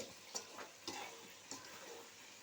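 Chicken frying in a pan with spice powder is stirred, giving a soft, low sizzle with a few distinct scraping strokes spaced about half a second apart.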